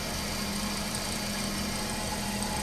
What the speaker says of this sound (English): I call this the poor man's lathe. She's spinning pretty good.